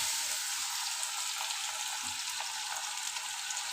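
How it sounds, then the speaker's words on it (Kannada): Bitter gourd (karela) slices frying in hot oil on a low gas flame for crispy spicy snacks, giving a steady, dense sizzle with small crackles throughout. "ಈಗ ಅದು ಎಣ್ಣೆ ಒಳಗೆ ನಾ ಸ್ವಲ್ಪ ಕರಿನೂ ನೋಡ್ರಿ"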